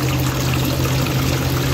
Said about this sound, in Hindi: और यहाँ से निकालो पानी,